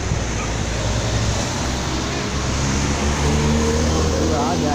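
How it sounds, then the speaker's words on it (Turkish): City bus pulling up at a stop in Eşrefpaşa, İzmir, a loud, steady low engine rumble with broad road and wind noise throughout, with voices audible in the background. "Otobüs geldi."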